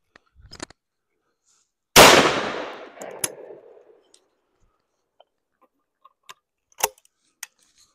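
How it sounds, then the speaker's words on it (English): A single loud blast from a 24 gauge shotgun fired at clay targets outdoors, sharp onset with a decaying echo over about two seconds, followed by scattered small clicks and handling noises. "Let's shoot some clays now"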